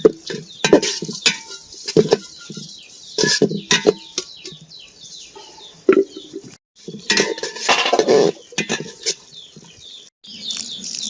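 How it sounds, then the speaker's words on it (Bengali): Rice being washed in a metal pot for a khichuri with river prawns, with irregular clinks, scrapes and watery sloshing in close bursts separated by short pauses. "চালগুলো ভালোভাবে ধুয়ে নেই"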